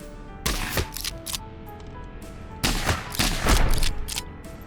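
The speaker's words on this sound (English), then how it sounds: "These are Vorsiber soldiers. They get the full shotgun treatment." Shotgun blasts fired at Vorsiber soldiers in the video game Heart of the Machine: two bursts of loud booming shots, each a cluster of rapid cracks with a short quiet gap between them.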